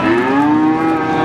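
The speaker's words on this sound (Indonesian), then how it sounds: "Ini ada sapi PO betina." A female PO cow at an Indonesian cattle market lets out a single loud, close, sustained moo that holds a steady pitch across the whole moment.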